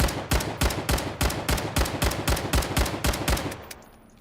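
Rapid gunfire from a weapon in the video game Islands of Nyne, about a dozen evenly spaced sharp shots in a steady rhythm, loud and close, ending with a short fading tail.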